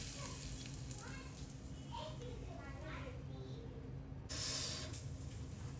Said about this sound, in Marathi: या चटणीवरती मस्त ही फोडणी टाकते मी